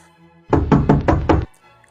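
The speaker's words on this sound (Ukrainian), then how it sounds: "у величезні королівські ворота хтось голосно постукав" Loud knocking on huge castle gates: five heavy, evenly spaced blows in a quick run, close and booming, with no talk around them.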